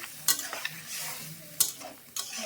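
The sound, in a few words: fish and tomatoes cooking in a pan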